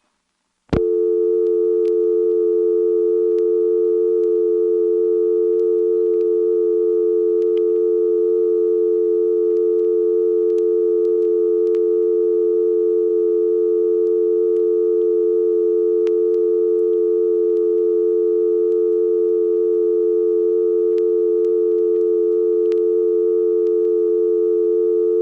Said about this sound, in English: So I'm going to let the dial tone play without talking on it.